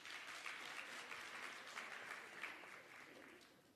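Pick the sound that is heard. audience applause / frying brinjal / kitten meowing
audience applause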